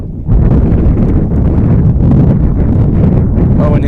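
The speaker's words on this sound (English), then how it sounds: "the wind's blowing out to the outfield, up to center to be exact" Strong wind buffets the microphone at an evening baseball game in Raymondville, a loud, continuous rumbling roar with gusty swells that holds steady throughout.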